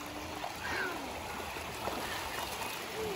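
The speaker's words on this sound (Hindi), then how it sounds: "तो अभी थोड़ा थोड़ा यहाँ से पानी स्टार्ट हो गया है, तो आयन को इतनी मज़ा आ रही है" Steady flowing stream water rushes and trickles continuously, close by, with faint birdsong chirping over the constant wash, near Bhivpuri Waterfall near Neral.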